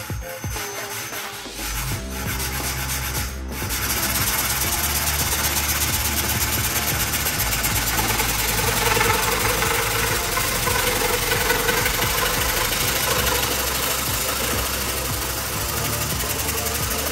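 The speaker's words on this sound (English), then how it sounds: "I'm using just a metal blade. It's a finer tooth blade and it'll keep from burring the handle" A fine-tooth metal-cutting blade saws through a fiberglass shovel handle, a steady, loud buzzing cut that starts after a few seconds of rattling and runs continuously to the end.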